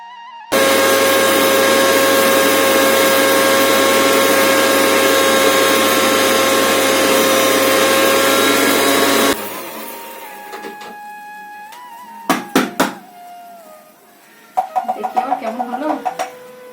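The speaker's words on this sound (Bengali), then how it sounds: "ধনে জিরে শুকনো লঙ্কা তো সেগুলো একটু মিক্সিতে একটু পেস্ট করে নিই" An electric mixer grinder whirs loudly and steadily as it grinds coriander, cumin and dried chillies, then cuts off abruptly; clattering handling noises and a few knocks follow in a home kitchen.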